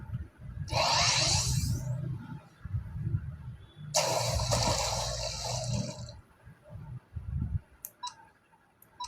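Two loud, hissing water-spray bursts in the Minecraft Cobbleverse game, each lasting about two seconds, sound over a low gurgling, splashing bed, followed by a few small clicks at the end.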